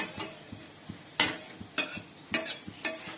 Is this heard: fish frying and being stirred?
yes